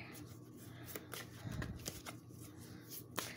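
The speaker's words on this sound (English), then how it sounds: "Make sure I have the cards aligned right." A deck of tarot cards being handled and squared up, soft close riffling and tapping of card edges, quiet, with a few sharper taps as the deck is knocked into alignment.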